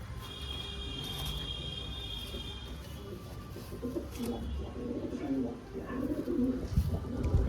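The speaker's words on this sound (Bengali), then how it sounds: "বহুত ছটপটে পায়রা।" Pigeons, including a restless hen bird, coo softly with low murmuring calls and faint rustling movement, steady under background hum and distant chirps.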